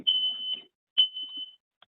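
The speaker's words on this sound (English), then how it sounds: "I got to shut off my smoke alarm here." Two shrill, piercing beeps from a smoke alarm, each about half a second long, close by, followed by a tiny chirp.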